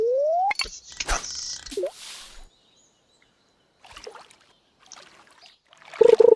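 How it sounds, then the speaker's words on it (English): A fishing line is cast in the video game Stardew Valley, with a rising whoosh, a reel-like whir and a splashing plop in quick succession, followed by quieter watery game sounds near the end. "Let us get some fishing done here."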